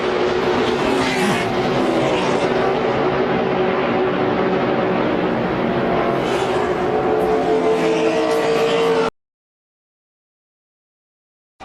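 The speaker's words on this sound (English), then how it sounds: "out of control goes Kenseth. Over on his roof" A NASCAR race car at Talladega spins out of control and flips onto its roof, heard as a loud roaring engine and tire noise mixed with crowd din. It cuts to silence near the end, with no talking.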